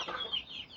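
A chicken in a rooftop coop gives soft, quick clucks, close by and fairly quiet, with no other sound around it.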